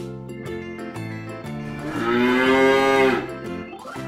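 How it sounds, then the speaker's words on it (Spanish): A cow gives one long, loud, low moo in the middle, rising and fading over light background music, with no talking. "Cow."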